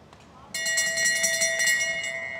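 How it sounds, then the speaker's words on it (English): A bell rings sharply at a track cycling elimination race during a junior series in Adelaide, struck repeatedly in a rapid ringing run that starts abruptly and continues over crowd noise and a commentator's voice. "There's the bell, one last cut to be made."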